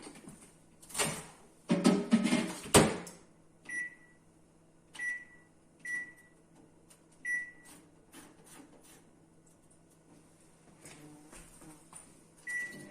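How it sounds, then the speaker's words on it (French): A microwave oven running at 600 watts, heating garlic, onion and oil in a closed jug, with a few loud clunks and rattles at the start followed by a steady hum and a regular series of short beeps. "que je vais mettre 3 minutes à 600 watts au micro-ondes"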